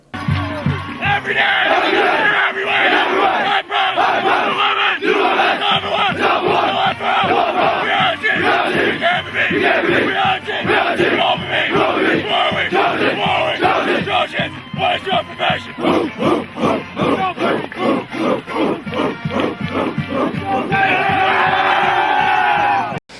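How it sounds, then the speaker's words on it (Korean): A sports team gathers in a pregame huddle and shouts a chant together, with loud, rhythmic group yells and cheering from a crowd of voices that carry on throughout. "경기 직전 어깨 동무하면서 모인 뒤에 구호를 외치면서 파이팅을 다지는 행동인데요"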